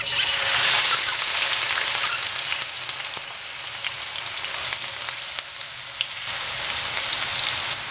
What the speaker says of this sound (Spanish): Empezamos añadiendo ajos y cebolla.